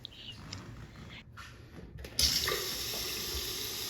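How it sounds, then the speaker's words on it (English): A faucet fitted with a new aerator, replacing a corroded one, starts running after about two seconds of quiet, then gives a steady, close, even stream of water with no talking. "now you see that the water is flowing down neatly and not spraying out in different directions"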